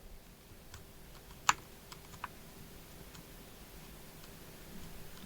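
Keys on a Keychron K10 mechanical keyboard click in a few sparse, faint taps, one louder than the rest, over a quiet room hiss.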